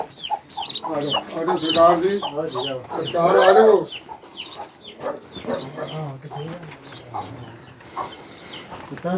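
Chickens cluck and squawk close by in bursts at a mud house in a Pakistani village, with people talking over much of it.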